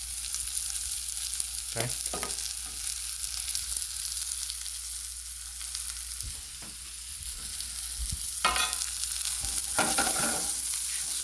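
Baby zucchini sauté in hot olive oil with a steady, close sizzle, punctuated by several sharp stirring scrapes and clacks of a utensil in the pan; a single brief word is spoken.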